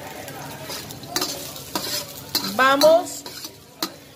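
Onion and garlic browning in a pan for salmon in coconut milk, with a soft sizzle broken by scraping and clinking strokes of a utensil stirring, close up; a voice speaks briefly.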